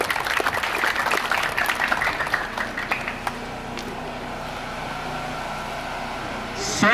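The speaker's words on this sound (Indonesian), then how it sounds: "Mari kita beri tepuk tangan yang meriah." At a village welcome event in Desa Lemelu, Bulagi Selatan, for a visiting tourism department head, a crowd claps briskly for about three seconds, then the applause fades into a quieter room hum.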